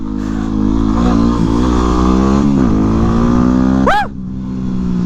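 A dual sport motorcycle is ridden with a loud, steady engine drone close by, the pitch rising and falling with throttle changes before briefly dropping near the end.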